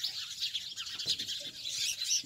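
Small birds nesting in park trees chirp and tweet in a dense, continuous chorus, with high bright calls overlapping throughout and a few soft low thumps beneath, no voices present.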